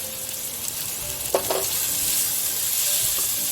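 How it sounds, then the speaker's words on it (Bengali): Minced meat frying with chana masala and shahi garam masala for keema chana, a steady close sizzle with a brief stirring scrape near the middle. "সমস্ত কিছুর সাথে ভালোভাবে মিশিয়ে আরেকটু কষিয়ে নেব।"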